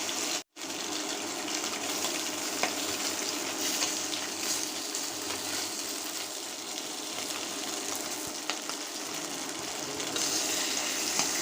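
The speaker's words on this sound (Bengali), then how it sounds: "মাছগুলো প্রথমে ভেজে নিচ্ছি।" Folui fish fry in oil in a frying pan, giving a steady, dense hiss that fills the whole stretch with little change. It drops out once briefly near the start, and there is no talking.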